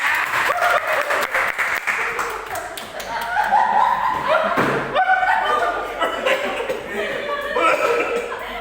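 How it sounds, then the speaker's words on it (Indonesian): Audience applause in an Indonesian seminar or training session, a steady wash of clapping from a room full of people lasting throughout, with scattered voices and a few louder thumps mixed in. "Aplaus untuk kita semua."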